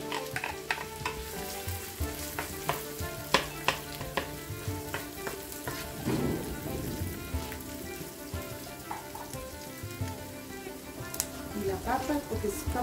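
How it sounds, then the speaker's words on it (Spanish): Green plantain pieces frying in a pan of oil for Peruvian gardener rice, a dense continuous crackling sizzle with scattered sharp pops and occasional stirring, moderately close. "Agregamos el plátano verde."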